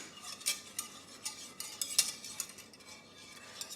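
A spoon stirs a homemade fall-flavored drink mixture in a cup or pot, giving light, quick clinks and scrapes against the sides in an uneven rhythm, close and fairly quiet.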